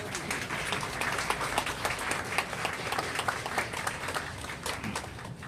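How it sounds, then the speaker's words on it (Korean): An audience at a church memorial hall's opening thanksgiving service claps to welcome a missionary, a dense, continuous round of applause filling the room at an even, fairly loud level. "우리 박선교사님 나오실 때 뜨겁게 박수로 맞이해 주시기 바랍니다."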